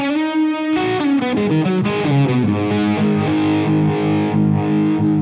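Distorted electric guitar chords through a vibe pedal, a swirling, throaty modulation that wobbles the tone in a vocal-like way, loud and sustained throughout.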